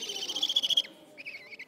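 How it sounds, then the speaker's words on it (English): An owl at a birds of prey display gives a short series of rapid, high-pitched trilling calls, followed by a softer repeated chirping, fairly close and otherwise quiet. "Yep, this is an owl."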